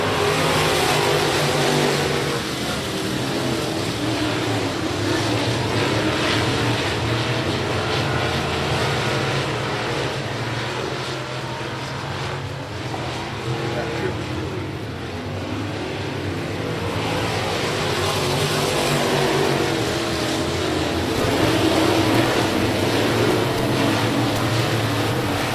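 A field of winged modified race cars roars off the green flag at Big O Speedway, a dense, steady wall of engine noise with swelling revs that stays loud and continuous throughout.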